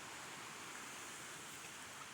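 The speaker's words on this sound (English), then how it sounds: "Here's a waterfall. There's a lot of water going over that." Broad, steady roar of a waterfall on a wilderness hike, heavy water pouring over the drop, rushing evenly from a moderate distance with no voices.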